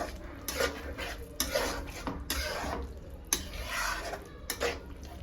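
A spoon scrapes and clinks against a pan while a spice mixture for mushroom masala is stirred, giving repeated close metallic strokes in an uneven rhythm with no talking.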